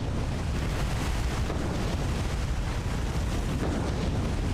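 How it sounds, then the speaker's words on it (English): Torpedoes strike the bow of a ship in War on the Sea, making a dense, roaring, rumbling blast that stays loud and constant, with no talk. "3 torpedo hits. Perfect. Right on the bow."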